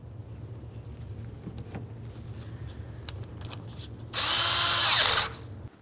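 Power tool driving in radiator mounting bolts on a 2004-2015 Nissan Titan, a single loud whirring burst about one second long that winds down, heard close over a low background hum.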